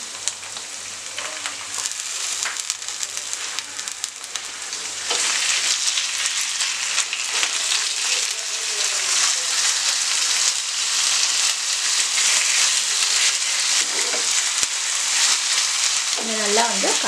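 Chicken cubes frying with softened onions in a pan for a chicken mushroom stir fry: a hissing sizzle swells louder as the chicken goes in and then stays thick and steady, with occasional stirring clinks and a brief voice near the end.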